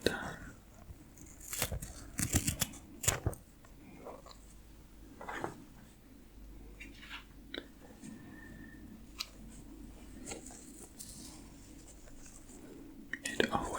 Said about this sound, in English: I don't have very strong scissors, so I have to do a few at a time.